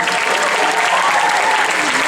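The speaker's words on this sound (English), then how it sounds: "Please give them a big round of applause." An audience at a Diwali celebration applauds in a dense, steady burst of clapping that fills the whole moment without pause.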